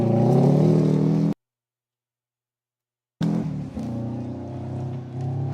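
A Mazda rally car drives past on a forest rally stage with a loud, tonal engine note, cut off abruptly by a stretch of silence, then another engine drone resumes and fades.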